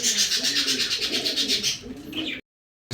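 Tournament pigeons coo in a close, rhythmic series of soft throaty pulses, ending in a short pause and a brief rustle.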